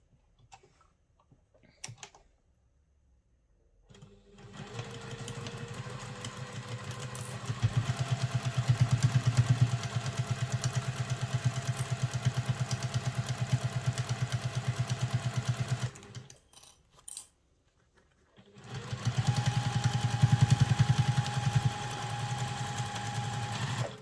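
A sewing machine stitches a seam on a travel satchel that may contain vinyl, running in two long steady bursts separated by a short pause, with brief quiet handling sounds at the start.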